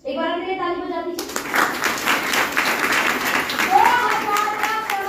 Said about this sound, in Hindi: एक बार मेरे ताली बजा दीजिए।